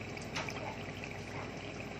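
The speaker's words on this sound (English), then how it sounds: "You let the excess drip off a bit." Excess batter drips off a piece of fish before frying, giving a soft continuous trickle with a brief splashy spatter early on. It is quiet and steady, with no talking.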